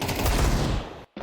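A loud, rapid burst of automatic gunfire in a Counter-Strike 2 professional match cuts off abruptly, then resumes briefly after a short gap.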